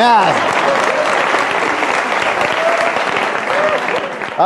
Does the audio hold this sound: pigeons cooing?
no